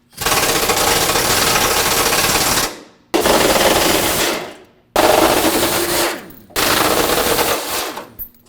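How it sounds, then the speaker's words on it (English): An impact power tool removing 15mm bumper bracket bolts on a 2009-2010 Dodge Ram 1500, rattling loudly in four hammering bursts of a few seconds each, separated by short pauses. "Now use a 15mm socket and remove the 4 bolts holding this bracket onto the bumper cover on the bottom"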